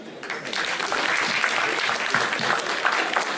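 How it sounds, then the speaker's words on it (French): Audience applause at an entrepreneurship networking gala, a steady dense patter of many hands clapping that fills the room and holds at an even level throughout, with no voices standing out. "Des applaudissements, s'il vous plaît"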